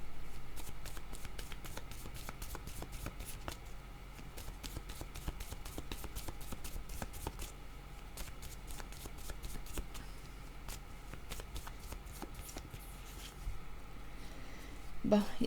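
Playing cards shuffled for a card reading, a steady run of crisp riffling flicks and soft taps lasting throughout, close and fairly quiet with no talk over it.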